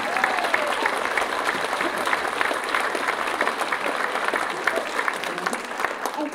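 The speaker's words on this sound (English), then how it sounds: "Give him a round of applause, ladies and gentlemen." A theatre crowd at a stage show claps in a sustained, dense round of applause, loud and even throughout, with faint crowd murmur mixed in.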